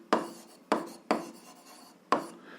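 Pen writing on paper while working an algebra exercise: four distinct scratchy strokes, each a sharp onset fading quickly, close and quiet against near silence.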